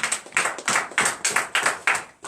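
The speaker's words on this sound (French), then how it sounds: "Donnons l'acclamation à notre Dieu." Hands clap in a brisk, even rhythm at a morning church prayer service in Comè, Benin, about eight sharp close claps with no talk over them.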